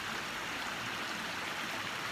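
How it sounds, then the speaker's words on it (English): Steady running water of a stream beside a parked van, a continuous broadband rush with no break or talk, close and fairly full. "I don't know if you can hear all the water."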